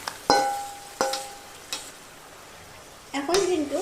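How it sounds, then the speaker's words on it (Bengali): Marinated chicken dropped into a hot pan with garlic and ginger paste, giving sharp clattering impacts followed by a loud sizzle and stirring, close and clear. "এবার আমি এর মধ্যে ম্যারিনেট করে রাখা চিকেনটা দিয়ে দিচ্ছি"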